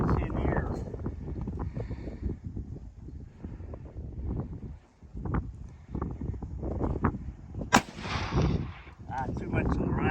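Several sharp rifle reports from an American-made Enfield rifle fired outdoors, widely spaced and loud, with wind buffeting the microphone and someone talking between shots.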